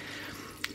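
A Gex cat water fountain runs, its filtered water trickling in a soft, steady stream with one small drip standing out near the end, faint and close.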